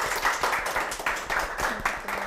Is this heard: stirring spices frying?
no